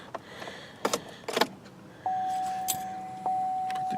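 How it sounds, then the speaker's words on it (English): A car key jingles and clicks into the ignition with a few metallic jangles, followed by a steady electronic warning tone that starts and then steps louder, close and indoors in the car. "Put the key in the ignition,"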